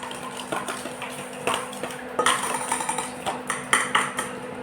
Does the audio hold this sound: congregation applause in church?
no